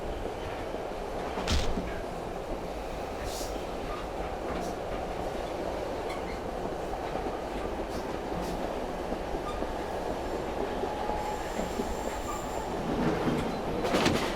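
Train carriage rumbling steadily through the Silent Hill 3 video game, a continuous low roar of rolling wheels with occasional brief clanks and a faint high squeal, sustained throughout at even loudness.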